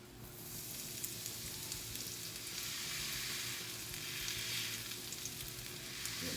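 Sweet potato hash brown patties frying in a pan, a loud, steady, close sizzle and crackle of hot oil that holds evenly throughout, with no talking.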